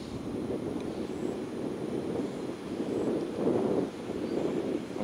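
An airliner taking off near Tampa airport, a steady broad engine roar that swells slightly toward the end, heard from a distance outdoors with some wind noise and no talking.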